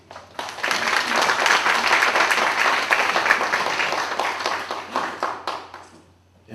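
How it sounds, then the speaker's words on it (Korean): A church congregation applauds to welcome a visiting professor to the service. The clapping is a steady, full burst lasting about six seconds before it tapers off. "박수로 환영해 주시기 바랍니다."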